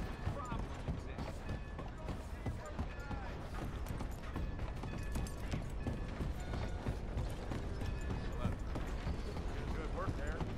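Horse hooves clip-clop at a gallop in the Western video game Red Dead Redemption 2. The steady, rapid beats run the whole time, faint under game sounds and talk.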